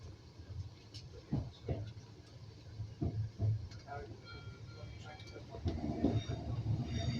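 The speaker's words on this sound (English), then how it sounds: "The train leaving on time for Moor Street." A train pulls out on time toward Moor Street, passing an old signal box, with a steady low rumble and scattered clicks and knocks from the wagons; faint voices murmur under it.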